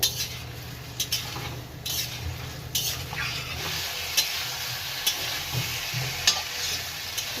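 Bottle gourd, potato and red lentils sautéing with spices in a pan, a steady frying sizzle with regular scraping strokes of a spatula, close and with no talking.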